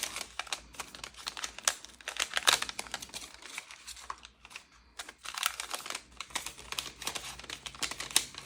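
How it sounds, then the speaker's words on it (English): Vellum envelopes opened and handled during a craft supply unboxing, producing dense, continuous crisp crinkling and rustling close up, with a brief lull midway before the crackling resumes. "I love the sound of these vellum envelopes."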